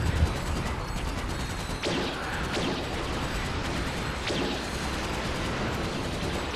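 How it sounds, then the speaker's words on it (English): Turret gunfire in the Ratchet: Deadlocked video game, a dense continuous crackle of rapid shots with a few sharper bursts standing out, loud and steady throughout with no talking. "God, my turrets are shooting things out of the air as it falls"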